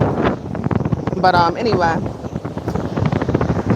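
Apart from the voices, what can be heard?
strong wind blowing into the microphone outdoors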